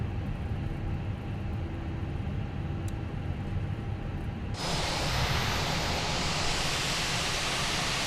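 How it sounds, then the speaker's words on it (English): Engine number 1 of a Fenix A320 airliner spooling up in Microsoft Flight Simulator 2020: a low steady rumble inside the cockpit suddenly swells into a loud broad roaring rush halfway through and holds there. "Go ahead and start engine number 1."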